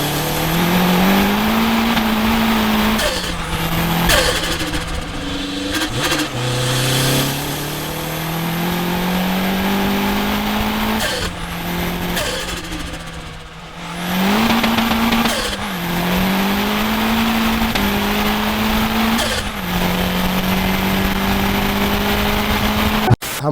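A turbocharged Renault Clio 182 with a forged engine running 15 PSI of boost accelerates hard through repeated gear changes, its engine note climbing and dropping in loud surges, with tire noise and occasional voices in the mix.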